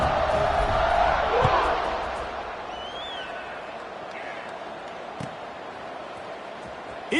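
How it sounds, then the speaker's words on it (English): A football stadium crowd waits for the kickoff after an extra point. Loud, swelling crowd noise builds to a peak early on, then settles into a sustained roar with scattered shouts and whoops. "this crowd now ready to get behind them"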